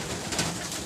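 A racing pigeon gives a brief, soft coo, low and faint against steady background noise.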